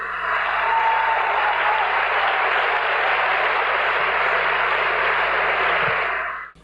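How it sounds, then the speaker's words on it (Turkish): A television awards-ceremony audience applauds steadily with dense, sustained clapping that holds at full strength, then cuts off abruptly at the end. "Alkışlarınızla Murat Göğe bakalım."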